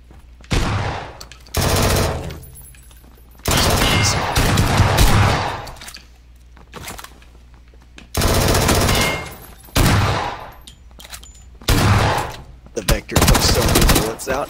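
Bursts of loud gunfire from the video game PUBG, including shotgun blasts and rapid automatic volleys in several clustered salvos separated by brief pauses.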